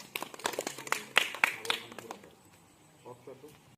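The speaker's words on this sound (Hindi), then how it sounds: "जरा अपने लिए ताली बजा लो" Schoolchildren in a classroom clapping for themselves, a short burst of quick, uneven claps that tails off after about two seconds, with a few faint voices.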